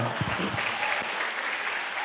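An audience at a TIENS company event claps in a brief, continuous patter of applause, fairly distant and even, with a voice briefly audible near the start.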